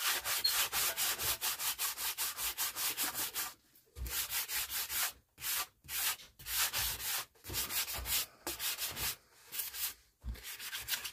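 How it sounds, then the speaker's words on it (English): A 1940s Motorola table radio cabinet being hand-sanded: close, steady back-and-forth strokes in quick rhythmic runs, broken by a few brief pauses. "I would just sand it down and paint it"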